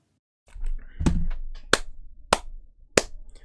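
Hands clapping, four sharp separate claps close to the microphone at an even, unhurried pace, following a brief muffled rustle.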